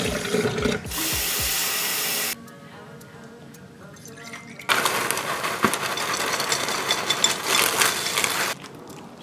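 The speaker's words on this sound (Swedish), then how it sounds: "Och jag tänkte fylla på lite nytt vatten åt henne." Running tap water splashes into a dog's bowl as it is filled with fresh water, a steady rushing stream heard close by in two bursts with a quieter pause between them.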